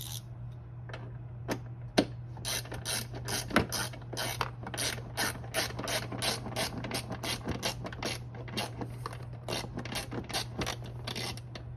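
Bolts being tightened with a ratchet during a ZeroSR rack install, a long run of quick, close clicking strokes in uneven bursts over a steady low hum.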